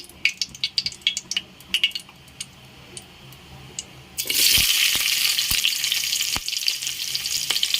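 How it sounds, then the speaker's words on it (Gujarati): Onions tipped into hot oil for Gujarati vagharela bhat from leftover rice start a loud, steady sizzle partway through, after quieter clinks and stirring taps, with occasional spoon knocks over the hiss. "તો અહીંયા આપણું તેલ ગરમ થઈ ગયું છે, આપણે એમાં ડુંગળી એડ કરી દેવાની છે"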